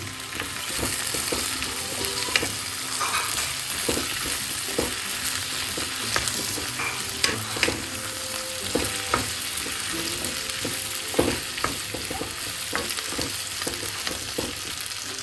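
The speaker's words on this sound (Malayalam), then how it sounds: "ഉപ്പും മഞ്ഞൾപ്പൊടിയും ചേർത്ത് നന്നായി മിക്സ് ചെയ്യുക" Potatoes stirred with salt and turmeric in a frying pan for a Kerala-style mezhukkupuratti, a steady close sizzle with repeated scraping and clacking strokes of a spoon throughout.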